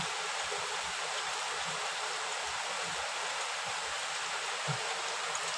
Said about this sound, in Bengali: দেখতে পাচ্ছ বৃষ্টি হচ্ছে বন্ধুরা